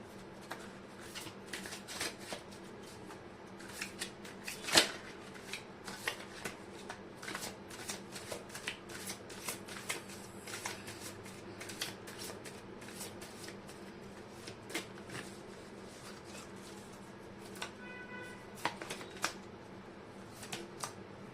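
Oracle cards being shuffled during a tarot-style reading, a steady run of soft riffling and papery flicks with occasional sharper snaps, close and fairly quiet throughout, with no talk.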